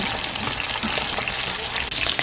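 Banak fish sizzling steadily in hot oil in a frying pan, a dense, constant crackle with scattered louder pops, close and loud with no voices.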